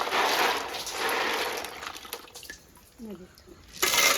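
River apple snails are tipped into hot water with a rushing, splashing pour that fades, then a brief voice is heard before another burst of water.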